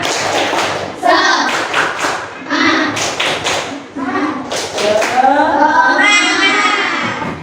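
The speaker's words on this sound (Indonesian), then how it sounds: "biar kalian tambah semangat, tepuk semangat dulu ya" A classroom performs rhythmic 'tepuk semangat' spirit clapping, bursts of patterned hand claps and slaps in quick sequences, loud and close, with children's voices chanting along.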